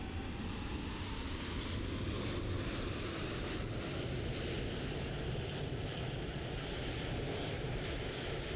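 The jet engines of a Boeing 737-800 in Microsoft Flight Simulator 2020 throttle up to a steady, loud, broadband roar with a rising whine. The sound holds constant and unbroken throughout.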